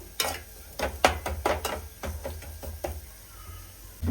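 Egg dropping into a pan while cooking egg curry, with several sharp knocks and clatters in quick bursts, then a soft sizzle underneath, close and fairly loud, no talk.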